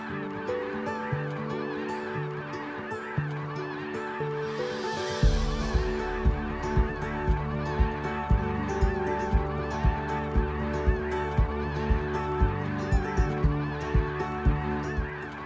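A flock of migratory waterbirds, cranes and ducks, calls at the Laguna de Bustillos wetland in Chihuahua. Loud honking goose-like cries repeat in a steady pulsing rhythm, close and continuous, growing busier and more emphatic partway through.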